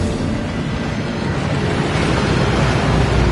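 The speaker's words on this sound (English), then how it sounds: "That waterfall washes away all enchantments." The Gringotts waterfall in a Hogwarts video game rushes steadily, a dense, loud, unbroken roar of falling water with no voices over it.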